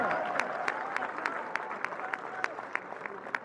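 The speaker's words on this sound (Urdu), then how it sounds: "تالیاں." Applause from a crowd at an outdoor political rally in Dera Ismail Khan, a steady patter of many hands clapping with sharp individual claps standing out throughout.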